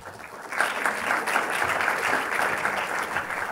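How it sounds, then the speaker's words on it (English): Audience applause at a European showrunner think tank event as a guest is welcomed on stage, a steady, dense wash of clapping that swells after a brief start and holds loud throughout. "and this is your applause."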